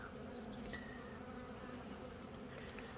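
Honey bees, mostly young, buzz over an open hive in an apiary treated with oxalic acid strips, a dense continuous hum of many insects close by with occasional sharper passes of individual bees, no voices.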